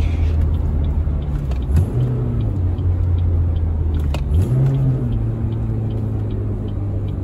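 A 2005 Chevy Cobalt SS with a manual gearbox accelerates from inside the cabin, engine drone rising in pitch, dropping sharply at a gear change, then climbing again and settling to a steady loud hum.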